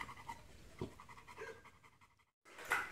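A pitbull dog panting quickly and close after exercise, with rapid, steady breaths that stop briefly before resuming.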